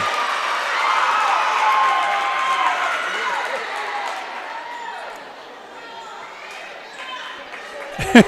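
A gym crowd at a volleyball match reacts to a point with a loud, sustained wave of cheering and shouting. The noise gradually fades, and a sharp thud is heard at the very end.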